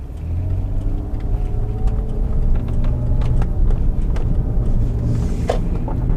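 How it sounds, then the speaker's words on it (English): A 2003 Mazda Tribute engine idling roughly, a steady low rumble with a slightly uneven, pulsing note, heard close and fairly loud with no talk. "So still got some weird rough idle type thing going on."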